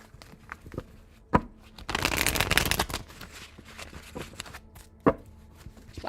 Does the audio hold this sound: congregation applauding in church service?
no